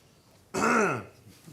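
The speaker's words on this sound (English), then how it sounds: "I figured it's better for me to cough away from the mic than into the mic." A single harsh throat-clearing cough at a legislative appropriations subcommittee hearing, close and fairly loud, lasting about half a second, with quiet room tone before and after.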